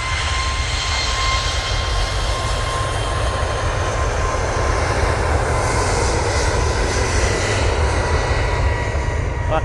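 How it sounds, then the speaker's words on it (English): A Singapore Airlines Boeing 777 jet airliner roars loudly and close by, its dense engine noise steady and unbroken from start to finish with a faint whining tone riding on top, no speech. "Well, I can definitely tell you that Singapore 777 is definitely not a Dreamliner."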